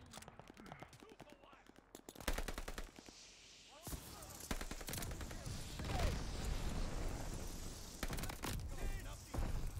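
Rapid automatic gunfire in the shooter game Call of Duty: Vanguard, with loud bursts and single shots clustered across the clip, plus crashes and mechanical clatter in between.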